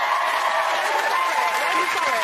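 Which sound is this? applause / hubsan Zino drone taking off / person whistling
applause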